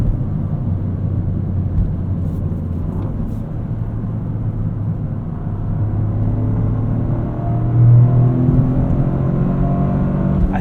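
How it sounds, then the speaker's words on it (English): A 2023 Toyota GR Corolla's 3-cylinder turbo engine droning as the car drives on a street, a steady low cabin rumble that swells briefly near the end. "This 3-cylinder turbo makes such a unique noise."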